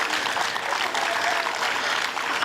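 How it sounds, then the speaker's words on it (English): Steady audience applause at a book launch during a literature festival, a dense patter of many hands clapping at moderate volume, continuous for the whole stretch without talk. "Can we hear some claps,"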